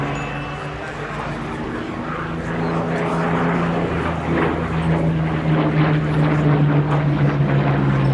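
Hawker Hurricane Mk.I with a Rolls-Royce Merlin III engine flying at an air show, a loud continuous droning roar that swells slightly and holds steady throughout.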